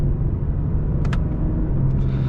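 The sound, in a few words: 2021 Lexus IS 300 AWD upshifting while driving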